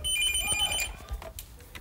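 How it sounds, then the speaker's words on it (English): A telephone ringing indoors in a reality-show house, a bright trilling bell tone pulsing through the first second before fading, with a faint voice nearby. "Phone!"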